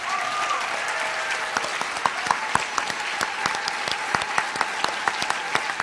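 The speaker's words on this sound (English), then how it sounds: "A round of applause for our speakers" A theatre audience on Oahu applauds its speakers at a 2015 tour event, a steady wash of clapping from a sizable crowd with sharper individual claps popping out near the front.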